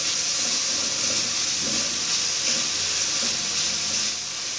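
Bell pepper cooking lightly in a pan, a steady soft sizzle and hiss running evenly throughout at moderate distance, with no voices.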